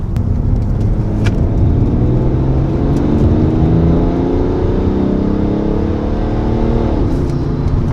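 A BMW E90 335d diesel with a tuned transmission accelerates hard, its steady engine drone rising in pitch through the gears, with quick shifts dropping the revs near the end; the engine sounds close and loud throughout.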